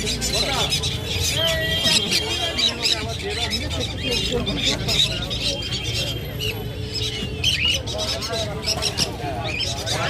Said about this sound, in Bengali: বদ্রি পাখি আছে, ককটেলের ছানা।